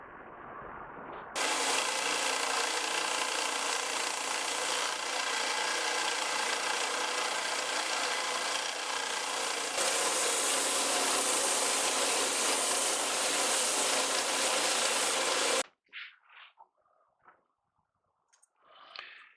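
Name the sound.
belt sander sanding a maple mandolin piece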